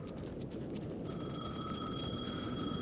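A telephone rings in the video game Alan Wake 2, a steady electronic ring that starts partway through and holds over a dense, rumbling ambient background.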